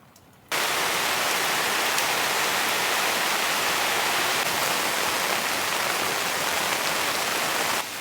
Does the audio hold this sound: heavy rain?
yes